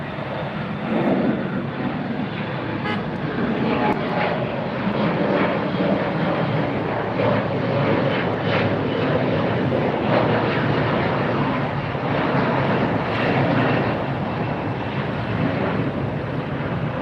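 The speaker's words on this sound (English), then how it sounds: "That's the KLM 787-10 Dreamliner heading for north side." KLM Boeing 787-10 Dreamliner airliner at LAX airport, heard from a distance as a steady, broad jet engine roar that holds level throughout, with some wind buffeting on the microphone.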